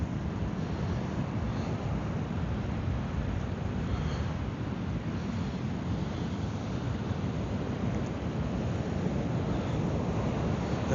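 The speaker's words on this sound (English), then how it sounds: "Look at them waves." Steady broadband rushing of surf on the beach at Torremolinos, Spain, constant and fairly close, mixed with wind buffeting the microphone; no voices.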